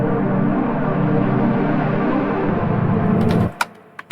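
A Sytrus supersaw pad synth with its unison pitch pushed high gives a dense, wide, sustained wash. It holds steady for about three and a half seconds, then cuts off, leaving a couple of brief clicks.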